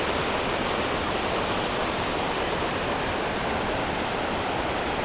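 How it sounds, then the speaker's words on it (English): Owharoa Falls in New Zealand tumbles down into its stream, a constant, full-bodied roar of falling and rushing water heard up close, steady from start to finish. "So the falls come down this stream here."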